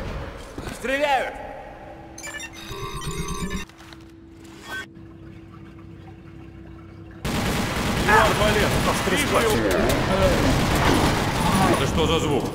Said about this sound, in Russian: Стреляют!